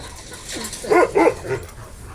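A large Kangal shepherd dog barks three times in quick succession, deep and close, the middle barks loudest, with quiet background around them.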